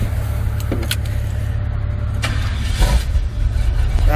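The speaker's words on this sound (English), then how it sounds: "Let's see if old black truck's gonna start up." An old black truck cranking and turning over in the aftermath of Hurricane Harvey, a steady low rumble with a few mechanical clicks and a surge as the engine catches near the end.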